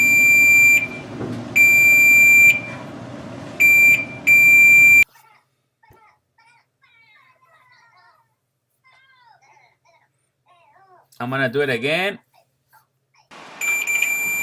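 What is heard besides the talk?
multimeter continuity test beep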